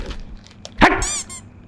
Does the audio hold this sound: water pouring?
no